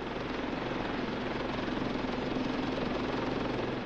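A naval helicopter on an anti-submarine destroyer gives off a steady, continuous rotor and engine drone at moderate level throughout, with no talking.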